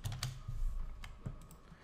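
Keys are pressed for the Ctrl S save shortcut on a computer keyboard while working in Revit, producing a few quiet, close clicks spaced across a short, hushed moment.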